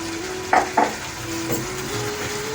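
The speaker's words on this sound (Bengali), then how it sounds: "এবার ফুলকপি আর আলুটা আমি এর মধ্যে দিয়ে দেবো" Cauliflower and potatoes frying in a spice masala, with a steady sizzle, two quick scraping knocks of a spoon against the pan early on, and a softer stir later.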